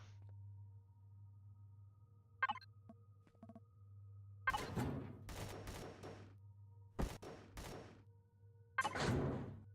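Gunfire aimed at an alien in the space game Empyrion, several separate loud bursts of shots over a low steady hum, with quiet gaps between them.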